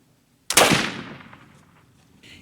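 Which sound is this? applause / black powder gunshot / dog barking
black powder gunshot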